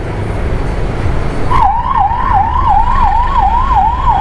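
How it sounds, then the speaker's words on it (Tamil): An ambulance siren wails in a steady rising-and-falling pattern as it passes along a road, loud over constant traffic and engine rumble, with no one speaking. "ஆம்புலன்ஸ் போகுதுங்க."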